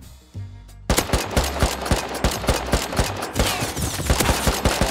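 A silenced AK rifle fires in the game Rust, rapid bursts of suppressed shots in a steady fast rhythm that runs almost continuously after a brief quiet start, loud and close.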